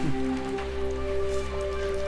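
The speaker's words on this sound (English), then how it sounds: "It kept pouring down on the galvanized iron roof, producing a loud noise." Torrential rain pours onto a galvanized iron roof in the Higurashi When They Cry game, a steady dense hiss that holds at an even, fairly loud level over a low tonal drone.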